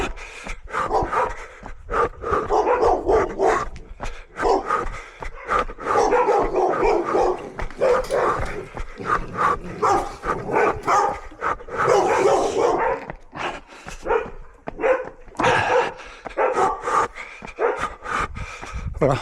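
An overexcited dog barks repeatedly and loudly at close range during an outdoor run, the yaps and woofs coming in rapid bursts with short whimpers and panting between them.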